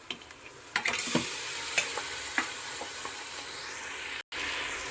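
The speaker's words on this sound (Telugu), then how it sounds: "ఇప్పుడు ఇందులోకి మనం ముందుగా క్లీన్ చేసి రెడీ చేసి పెట్టుకున్న మటన్ అయితే యాడ్ చేసుకుంటున్నాను" Mutton pieces are added to a hot pan for biryani, giving a close, steady frying sizzle with several stirring scrapes and clacks against the pan.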